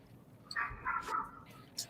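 A dog gives a few short barks and yips at moderate distance, scattered through a couple of seconds over low room noise.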